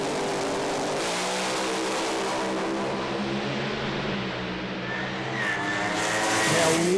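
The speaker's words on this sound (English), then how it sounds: "You can hear the revs building up here." Funny car drag racers sit staged as their engines rev and build, a loud, harsh roar with rising tones and tire squeal as they launch, unbroken throughout with no voices.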